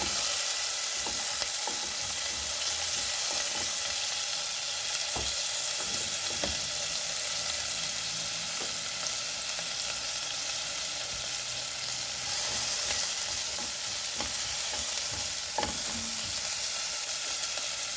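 Onions fry in a pan for sinigang na baboy, a loud, continuous hissing sizzle close by, with occasional soft clicks and stirring taps over the steady frying noise and no voices.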